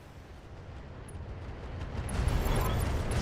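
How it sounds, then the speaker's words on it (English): Ammo explosion in a strategy video game, a low rumbling blast that swells gradually and grows louder toward the end, with no sharp initial crack. "I just got an ammo explosion"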